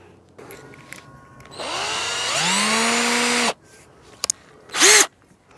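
An electric drill bores a pilot hole in a car's radiator core support, whining up to speed for about two seconds under load, then stopping, followed by a few clicks and a short second burst.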